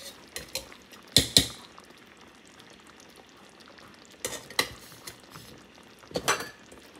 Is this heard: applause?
no